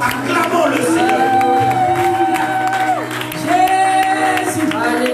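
Church congregation cheering and acclaiming during a French-language worship service, a sustained crowd roar of shouts and whoops with scattered clapping, steady and loud throughout, mixed with sung or spoken voices.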